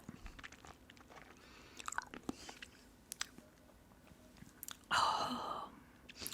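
Sour watermelon-flavored hard candy chewed close to the mic in whispered ASMR, with scattered soft crunches and wet mouth clicks, then a loud, dense crunching bite near the end.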